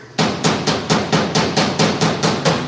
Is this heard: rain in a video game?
no